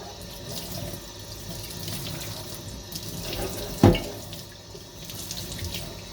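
A tap runs steadily into a sink while a shisha is washed, a continuous close splashing stream with one sharper knock partway through.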